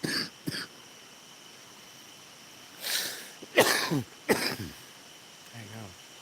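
A few separate coughs and throat-clearing bursts break a quiet background, with one brief early cough followed by a tighter cluster of three louder coughs and a faint voiced sound at the end.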